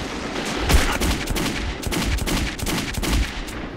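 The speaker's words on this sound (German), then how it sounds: "Ich schieß einfach in den Rauch" Gunfire in Metro 2033 as a player fires into smoke: dense, loud bursts of rapid shots and cracks, close and sustained with brief pauses.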